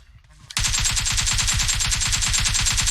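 Rapid automatic gunfire in the mobile battle-royale game PUBG Mobile, starting abruptly after a brief quiet moment and then hammering out a fast, even stream of loud, close shots.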